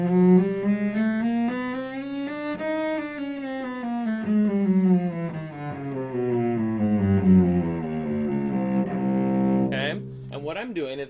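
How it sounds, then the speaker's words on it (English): Cello playing a chromatic scale, sustained bowed notes rising step by step by half steps and then descending again, close and resonant, unaccompanied, with a brief scrape or noise at the end. "Now what I'd like to do is a chromatic scale."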